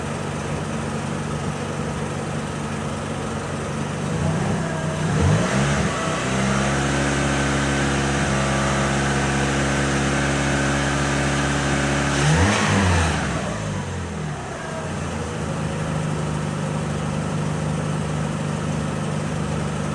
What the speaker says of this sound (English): I'll just give her a little bit of rev, then shut it off and see what we got.